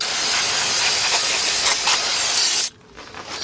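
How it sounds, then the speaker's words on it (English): Aerosol brake cleaner sprays in a steady, loud hiss onto the brake rotor of a 1996 Ford F150 pickup during front wheel bearing work, running continuously for over two seconds before cutting off abruptly into quiet. "Take some brake clean."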